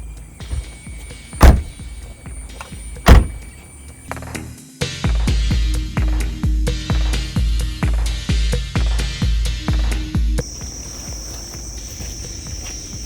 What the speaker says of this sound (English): The loud central locking, it sounds like someone is breaking into the car